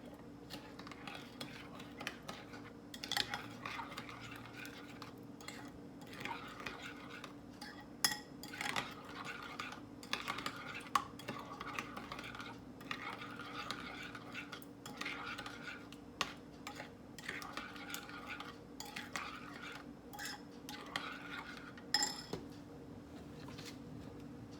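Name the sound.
mixing curry barbecue chicken sauce in a bowl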